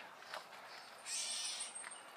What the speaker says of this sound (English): It's a catbird.